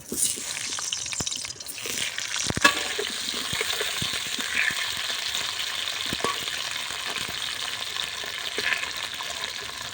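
Diced new potatoes frying in hot oil, a steady close sizzle with crackles and a few clinks from stirring, fairly loud with no voices.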